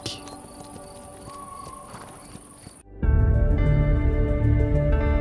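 Hooves of small Pottok horses galloping in the Basque mountains near the Atlantic give a light, rapid clatter over outdoor ambience for about three seconds, then loud music swells in and covers everything.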